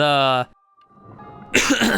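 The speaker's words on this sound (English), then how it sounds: "clear my throat" A single short throat clearing, close and fairly loud, between bits of a man's speech.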